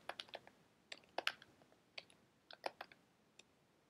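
Quick, light keystrokes on a computer keyboard, irregular clusters of sharp clicks recorded close and faint with no talking.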